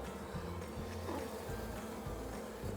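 Honey bees hum from an open beehive during an inspection, a close, steady drone with faint pulsing swells and no talking.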